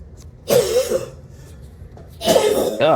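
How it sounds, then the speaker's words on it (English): Two bursts of harsh coughing, the first a short fit and the second a longer, throaty one, close by with quiet between. "Who's coughing like that in the back?"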